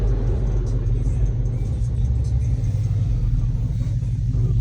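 A Dodge Hellcat driven through city streets in sport mode gives a steady, loud, deep engine rumble with a low drone that holds throughout.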